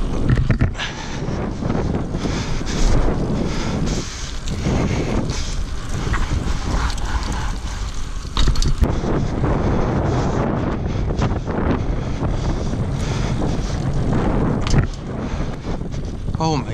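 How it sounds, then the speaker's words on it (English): Strong wind buffets a GoPro microphone outdoors in a New York City snowstorm, a loud continuous roaring rumble with gusty surges throughout. "Every time I want to record a GoPro video, it gets windy."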